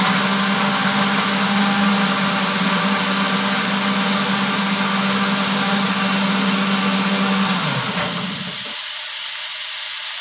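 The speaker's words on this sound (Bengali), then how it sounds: "মশলাটা বেটে রাখি" A mixer grinder blends spices into a paste for sweets, running with a loud steady whirring drone that cuts off abruptly near the end, leaving quieter background hiss.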